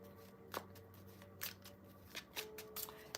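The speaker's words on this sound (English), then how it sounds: "It's a mini deck though, so it's actually a lot easier to hold and shuffle." A mini tarot card deck being shuffled, soft riffling and flicking of cards in quiet bursts, close but faint.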